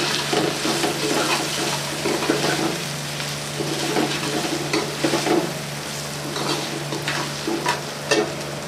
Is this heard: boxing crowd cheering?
no